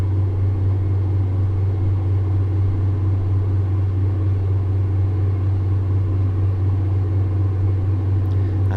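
A train locomotive in a rail simulator runs at full power, climbing uphill on the Erewash Valley line between Nottingham and Sheffield, giving a steady, loud low engine drone that holds constant with no speech.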